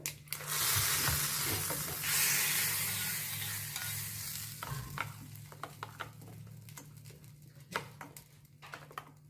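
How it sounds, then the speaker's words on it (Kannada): Oil crackles and sizzles steadily in a pan as mustard seeds, curry leaves and a dried red chili temper, with a low hum underneath and occasional sharp pops and stirring clicks toward the end. "ಒಗ್ಗರಣೆ ಕೊಡ್ತಾ ಇದ್ದೀನಿ ಸಾಸಿವೆ ಎಣ್ಣೆ ಕರಿಬೇವು ಒಂದು ಒಣಮೆಣಸು ಹಾಕಿರೋದು"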